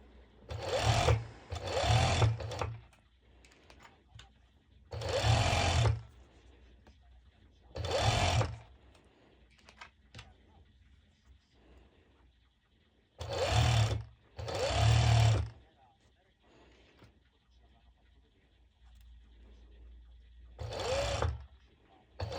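A sewing machine stitches elastic onto the lining side of fabric for a long-sleeved sporty top, running in several short bursts of rapid buzzing separated by quiet pauses, nearby and moderately loud.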